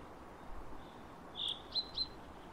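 Birds chirping in the game Sally Face, a few thin high tweets, one longer call followed by two quick short chirps, faint over a quiet hiss of background noise.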